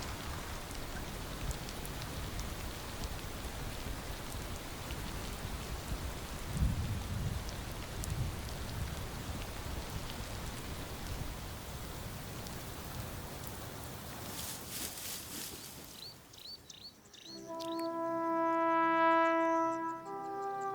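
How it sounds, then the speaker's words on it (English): Steady rain falls on the Serengeti plains at Moru, a dense continuous hiss that swells briefly midway, then fades into a quieter stretch with faint distant tones. "The rains are generous now. Every day they fall on Moru, bringing relief to this thirsty land."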